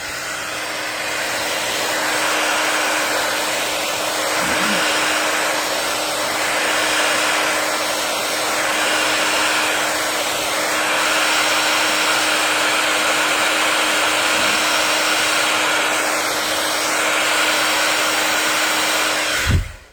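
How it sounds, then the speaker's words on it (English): A hair dryer blows loudly and steadily on a craft project, a constant close whoosh with a slight wavering hum that stops abruptly at the end. "Let's hit that with the blow dry."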